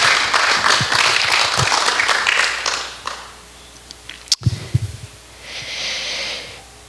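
A church congregation claps and cheers for a few seconds, the applause fading out, followed by some close breathy sounds and a brief faint hiss.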